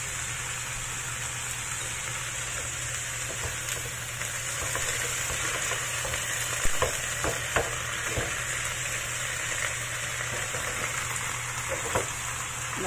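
Cabbage stir-frying with rice wine in a pan, an even, fairly faint hiss and crackle running throughout with a few louder scrapes or clatters from stirring near the middle, and no talking.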